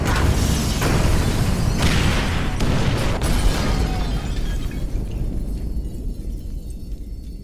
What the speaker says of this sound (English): All right, trigger the firebombs